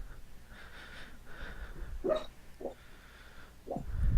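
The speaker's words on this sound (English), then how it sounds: "She is dreaming and barking in her sleep." A sleeping female dog dreams, letting out a few muffled, breathy woofs and hiccup-like yips at uneven intervals, faint and close over a quiet room.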